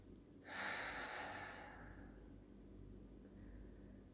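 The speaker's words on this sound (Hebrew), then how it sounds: "לנשום נשימה עמוקה" A single deep inhalation through the nose during a seated meditation, close and soft, rising sharply then tapering into a faint, long exhale over a quiet background.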